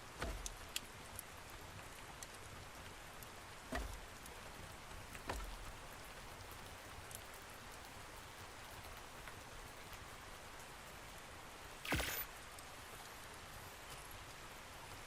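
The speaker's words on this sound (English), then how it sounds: "Starting to rain now." Steady, faint rain falls in the Ark Survival Ascended video game, a constant hiss with a few brief louder bursts, no voices.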